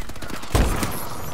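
Video game gunfire, likely a one-shot sniper rifle: a single loud burst of a shot with a short crackling tail, set against a steady background of game sound.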